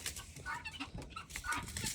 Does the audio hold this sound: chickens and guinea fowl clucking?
yes